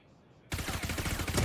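Rapid automatic gunfire erupts in a professional Valorant match between PRX and ZETA, a dense burst of shots that starts abruptly after near silence.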